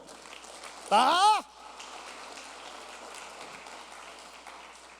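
A church congregation applauding, heard as a soft, distant patter of clapping like light rain, interrupted briefly by a loud spoken word.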